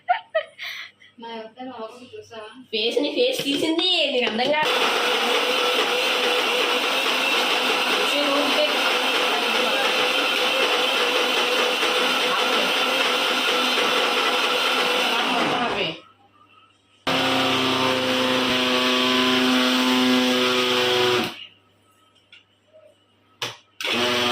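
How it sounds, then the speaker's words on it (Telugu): Brief talk and laughter, then a mixer grinder whirs loudly and steadily for about ten seconds while making cake batter, stops briefly, and runs again before cutting off. "మిక్సీ పట్టడం కూడా చూపించాలా"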